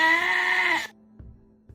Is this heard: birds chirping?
no